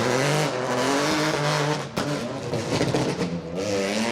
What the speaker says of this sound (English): It is such an unnecessary yet very pleasing amount of noise coming from those 208 Rally 4 cars